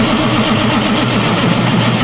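Truck engine cranking and running with a battery charger attached during a low-fuel fault check, a loud, dense continuous churning drone close by with no talking.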